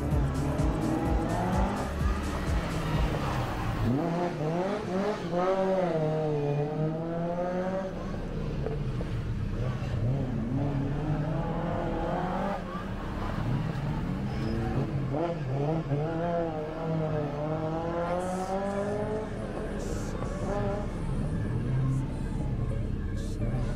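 A rally car in the Rallye du Chablais 2022, stage ES8, blasts through the cable-car square in Champéry. The engine roars continuously, rising and falling through gear changes with tyre squeal, loud and close for over twenty seconds.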